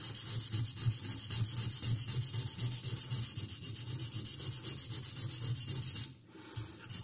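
The edge of a French Le Thiers pocket knife rasps back and forth against a sharpening stone in steady close strokes, pausing briefly near the end before resuming.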